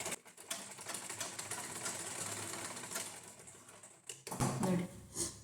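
Sewing machine stitching a folded blouse lining, a steady rapid mechanical whirr running close and fairly loud for most of the stretch, then breaking off into a few short bursts and handling clatters near the end.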